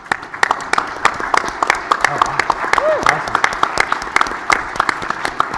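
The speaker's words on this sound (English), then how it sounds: "I'd like you to just stand so we can give you a round of applause" A room of next-generation national security leaders and alumni applauds while standing, with sharp, scattered individual claps over a low murmur, and a voice speaks briefly partway through.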